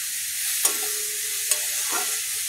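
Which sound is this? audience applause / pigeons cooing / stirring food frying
stirring food frying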